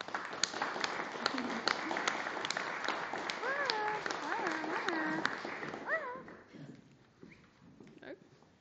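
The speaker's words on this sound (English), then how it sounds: "A round of applause, please, for Richy Campbell." Applause from a small audience at a university poetry reading, scattered claps that thin out and fade toward the end, with a few faint voices and whoops mixed in.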